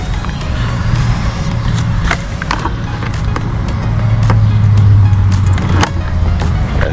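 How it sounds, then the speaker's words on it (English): A contractor's diesel truck idling and rumbling nearby with a steady low drone, alongside intermittent knocks and clatter at a remodeling site. "It sound like a diesel truck."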